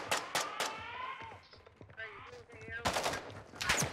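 Rapid gunfire bursts in a Call of Duty match, sharp cracks in clusters at the start and again near the end, with game effects and faint voices between volleys.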